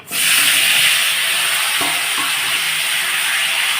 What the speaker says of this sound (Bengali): এই যে আমি এর মধ্যে ঢেলে দিচ্ছি।